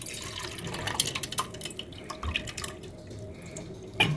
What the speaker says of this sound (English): Rinse well a couple of times till water runs clear.